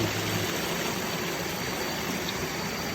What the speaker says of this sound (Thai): มองหน้าผาน้ำตก ของบ้านห้วยหวดตำบลจันทน์